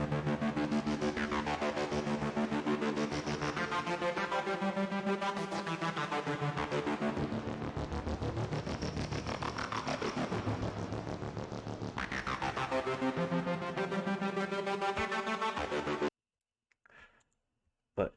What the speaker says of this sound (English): here's an interesting melodic bass line that is distorted to hell and then flattened to audio